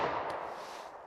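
A single 9mm Taurus G2C pistol shot fired at a target 25 yards away at a range, caught as a sharp report already decaying into a fading reverberant tail, alone.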